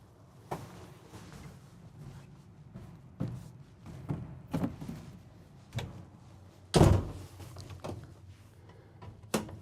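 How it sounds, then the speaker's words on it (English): Emergency exit door of a 2023 Newmar Mountain Aire 4118 motorhome is opened and its ladder flipped down: scattered close clunks and knocks, with one loud heavy bang near the end, over a quiet interior hum. "You literally just open the door, take this panel off, flip down the ladder, and it'll extend down,"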